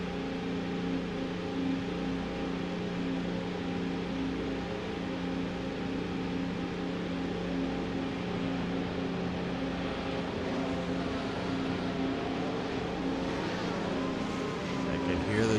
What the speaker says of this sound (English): Hear the drivers roaring their engines in anticipation for the red lights to become on.